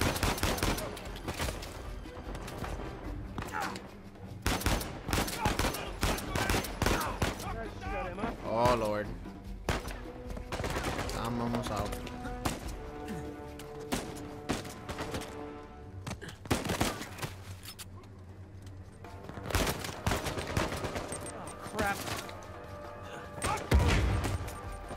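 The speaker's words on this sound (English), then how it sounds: "I probably made a mistake by shooting these people." Bursts of video game gunfire from Uncharted 4 come in scattered volleys and rapid strings across the stretch, loud and close, with voices talking in between.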